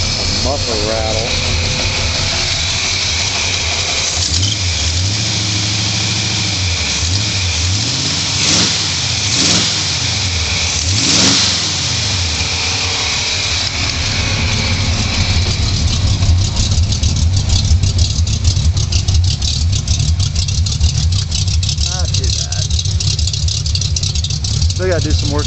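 A 1992 RS Camaro with fitted headers and an unfinished exhaust cranks and fires up, then settles into a loud, rumbling idle with a few swelling revs, while people talk nearby.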